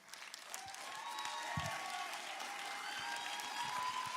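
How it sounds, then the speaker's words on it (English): Audience at a 5th grade graduation at a charter school applauding a young valedictorian, faint distant clapping mixed with crowd murmur and tonal sounds in a large room. "give this young man a round of applause"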